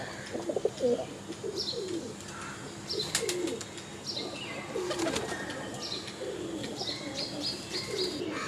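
Pigeons cooing at a busy pigeon market in Uluberia, soft repeated coos and chirps with bursts of wing flapping and clattering cage noises, amid faint background chatter.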